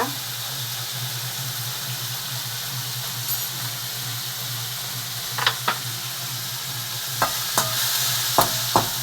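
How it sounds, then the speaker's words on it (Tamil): Onion and tomato sauté in a pan for a cowpea tamarind gravy, giving a steady close sizzle and hiss punctuated by several sharp spoon scrapes and clicks of stirring near the end. "நம்ம நல்லா தக்காளி வந்து நல்லா வதக்கிடுவோம்"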